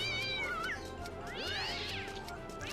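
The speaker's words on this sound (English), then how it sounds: "Cats are quite resilient and they do land on their feet most of the time, but they also get very agitated and will scratch." A cartoon cat meows and yowls in a Happy Tree Friends scene, with long rising and falling caterwauls in quick succession over busy background sound.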